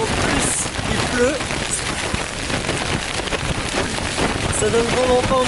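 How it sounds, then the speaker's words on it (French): Rain patters hard against a surface while very strong gusty wind buffets the microphone at a campsite, and a few faint voices are heard. "Il y a énormément de vent et en plus, il pleut."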